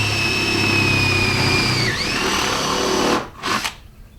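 A drill spins up with a steady whine while a 3/16 inch bit bores a hole for a nut cert, the pitch dipping as the bit bites through, then two short bursts as the drill is revved again, close and loud.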